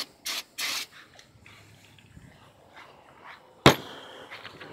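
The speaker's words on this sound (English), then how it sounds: "Spray the caliber again. I meant the brake rotor." Brake cleaner sprayed onto the brake rotor of a Chevrolet Malibu in two short hissing bursts, followed by quiet handling noises and one sharp metallic clank.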